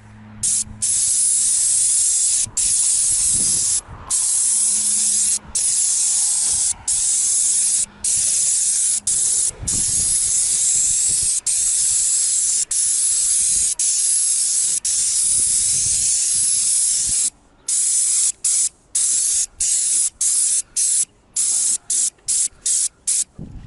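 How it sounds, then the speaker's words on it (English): A paint sprayer with a 115 low-pressure tip lays a second coat on a huge roof, a loud steady hiss running almost continuously, broken by many brief pauses between passes. "Spraying second coat using 115 tip, low pressure tip."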